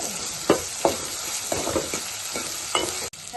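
Curry leaves and ginger garlic paste fry in a hot pan while being stirred, with a steady close sizzle broken by several sharp scraping stirs.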